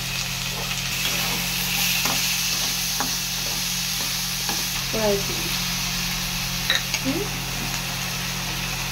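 Vegetables with capsicum and garam masala fry in a kadai for muri ghonto, a steady sizzle under repeated scraping stirs of a spatula against the pan, close and continuous.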